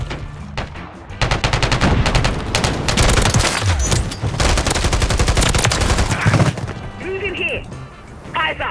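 Rapid, loud assault rifle fire from a video game in dense sustained bursts, with a few isolated shots at the start and a tapering tail of clinks and lighter game sounds near the end.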